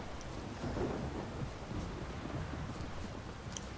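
Steady rain and low rumbling thunder from a storm in the video game The Witcher 3: Wild Hunt, a faint, continuous wash of noise with no talking.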